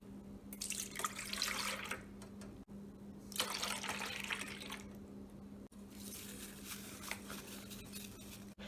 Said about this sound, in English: Mine says I need 2 cups of milk and I need to whisk it all together.